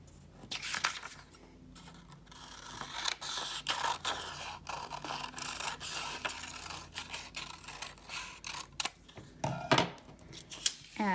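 Scissors cutting a paper heart shape, soft close snipping and paper rustling in an uneven series, fairly quiet, with no talking.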